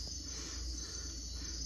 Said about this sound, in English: Were you calling? You're another masked tree frog.